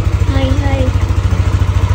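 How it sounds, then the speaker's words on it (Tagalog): A motorcycle engine is revved loudly close by, a rapid pulsing throb with speech over part of it. "Ang lakas-lakas ng tunog ng motor mo."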